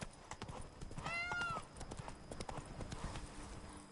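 Close, rhythmic clip-clop of horse hooves galloping in The Witcher 3: Blood and Wine, steady throughout, with a short whinny near the start of the run.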